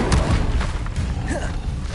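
A fire spell cast in a Harry Potter video game lands as a loud, close boom, then a rumbling whoosh with dull thuds that carries on to the end.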